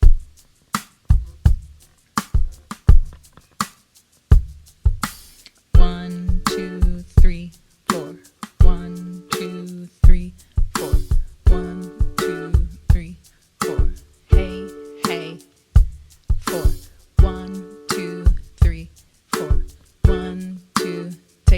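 A ukulele is strummed in a steady pattern with down strums on beats 1 and 4, bright and close, the strums repeating rhythmically alone throughout.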